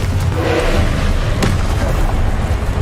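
Blasting spell explosion in the video game Hogwarts Legacy, a deep booming rumble with a sharp burst near the middle, set in dense loud game action.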